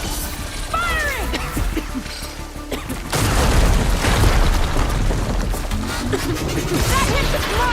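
Weapon fire and explosions from the video game Horizon Forbidden West, heavy booms and crashing bursts that grow louder and denser after a few seconds, with voices shouting over the battle.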